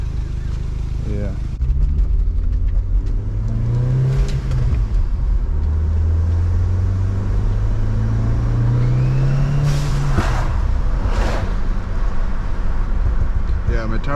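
An Audi A4 fitted with newly installed coilovers drives along, and a boost leak or blown turbo is suspected. The engine drones loudly and revs up and down, with rising tones, under intermittent talk inside the car.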